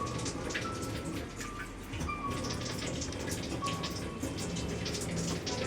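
Water trickles slowly from a home water ionizer, a soft steady splashing and dribbling stream heard close up and alone, without pause.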